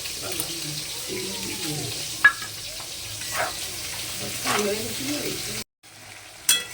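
Pointed gourd and potato frying with ground cumin, turmeric, chili and ginger paste, a low sizzle with spatula scrapes and a short break near the end before another clatter.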